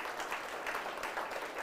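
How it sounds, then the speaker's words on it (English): An audience at an awards event in Auckland applauds for a short, steady stretch with no voices over it. "So big round of applause for all of them."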